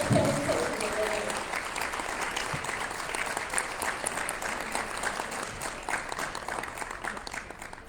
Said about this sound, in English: Let's please give these ladies a standing applause for the